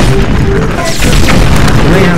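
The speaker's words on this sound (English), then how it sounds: "You're blowing up all my pillars." An explosion in Zelda: Breath of the Wild blasts stone pillars apart during a Master Mode shrine fight, a loud heavy boom with crumbling debris while a person talks over it.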